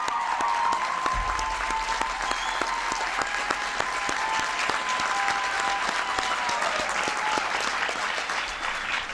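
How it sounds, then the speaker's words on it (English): A large crowd at a bill signing ceremony claps in sustained, dense applause, loud and continuous throughout with no break. "Give Tom a big round of applause."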